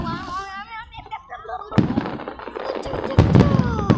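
Fireworks bang loudly twice, with crackling and rumbling trails and whistles rising and falling, after a quieter opening with faint voices.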